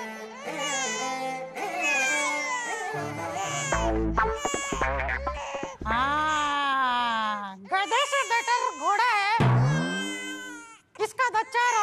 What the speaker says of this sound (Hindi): किसका बच्चा रो रहा है